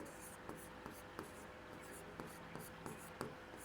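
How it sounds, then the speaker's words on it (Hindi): Soft scratching of handwriting on paper during a Hindi lesson, faint and close, with regular little taps of the pen under quiet background hiss. "यहाँ पर लिख देती हूँ मैं"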